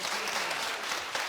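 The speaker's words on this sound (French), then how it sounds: "je demande bien plus d'applaudissements pour ce garçon" A television studio audience applauds a boy in a brief, dense burst of clapping that stays loud and even throughout.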